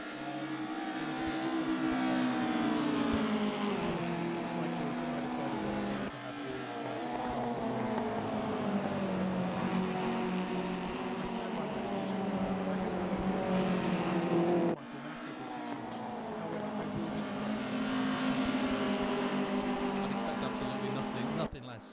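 Touring cars race at Donington in a sim racing game: a continuous loud engine drone with shifting pitch and gear changes, cut by brief breaks as cars accelerate, while voices talk over it.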